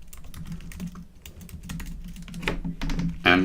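Typing on a computer keyboard with no cover, recorded through a Blue Yeti microphone: a steady run of close, crisp key clicks and clacks, with a few louder strikes near the end.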